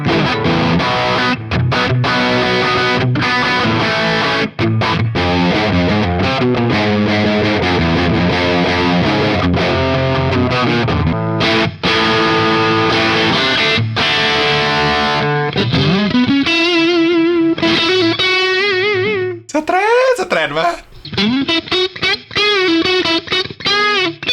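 A Gusta Harel S125 electric guitar played through heavy clipping distortion, loud and sustained with chords and riffs. Toward the end it shifts to bending, wavering lead notes, and no voice is heard.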